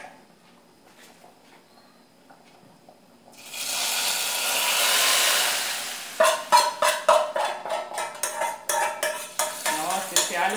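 Garlic sizzles in a frying pan for feijoada, a steady hiss rising midway, then a spoon scrapes and stirs it in quick, repeated clattering strokes close by, with no talking.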